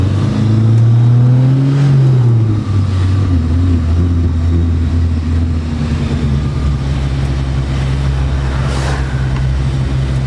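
A stored motor brought back to life in a car fitted with a custom header and exhaust revs loudly up close, the pitch climbing then dropping back to a rough, throaty idle drone.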